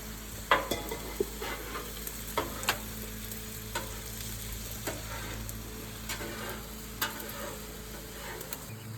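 Chicken stir fry sizzles on a Blackstone griddle, a steady close frying hiss with scattered sharper pops and clicks of utensils stirring, no talking.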